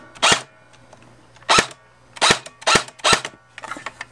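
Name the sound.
JG G36 airsoft gun firing semi-auto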